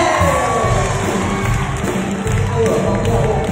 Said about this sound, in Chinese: 让我们以掌声热烈的欢迎